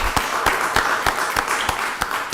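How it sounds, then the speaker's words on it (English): Audience at a county board of commissioners meeting gives a round of applause, a steady, dense wash of many hands clapping throughout, fairly loud and close, with no talking. "Let's give Stormwater Management Director Simpkins a round of applause."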